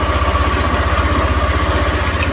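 A Yamaha NMax scooter with a keyless smart key idles close by, its small engine putting out a steady, rapid low putter with even pulses and no variation in speed, loud and alone without any voices.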